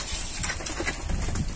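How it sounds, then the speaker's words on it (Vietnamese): Spotted dove cooing nearby, a few soft low coos over steady background noise, with faint bird calls around it. "Chim này siêng kêu lắm."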